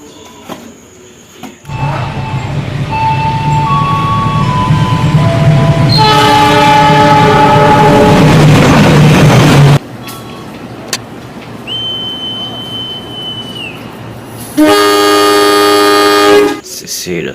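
A CC 205 locomotive on an Indonesian railway passes with a long, loud horn blast and heavy rumbling wagons, then a second sustained horn sounds near the end.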